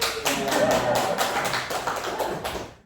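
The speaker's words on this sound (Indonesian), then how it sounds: "Kasih aplaus dong buat Mawid." Participants in an online class applaud a classmate, producing steady, overlapping claps and taps. The applause is close and fairly loud throughout, with voices mixed in, and fades at the end.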